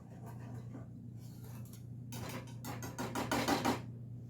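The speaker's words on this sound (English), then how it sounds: "It's gonna take just a little bit of time to get that cocoa stirred into the Coca-Cola and butter" A utensil stirs cocoa into Coca-Cola and butter in a pot, making quiet repeated scraping strokes against the vessel that grow faster and louder toward the end over a low background hum.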